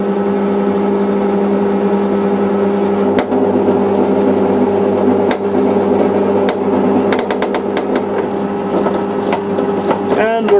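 A small drill bit bores slowly through hard metal while a machine hums steadily close by, broken by sharp knocks and a cluster of rapid clicks near the end, with a voice talking at times.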